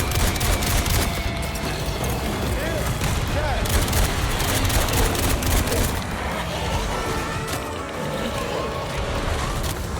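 Shots fired at a slab in Resident Evil Requiem, with dense overlapping gunfire and booms that continue without a break, mixed with people talking throughout.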